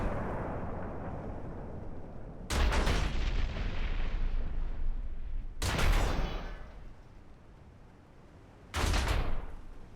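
Warship guns in Ultimate Admiral: Dreadnoughts fire three heavy salvos at a few seconds' spacing, each a sharp, loud blast followed by a long fading rumble.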